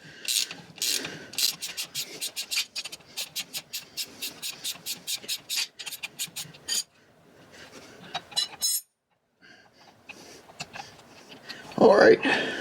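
Hand ratchet loosening a tight lower motor mount bolt on an Elantra N, a fast run of close, crisp clicks followed by slower intermittent clicks and rustling, with speech.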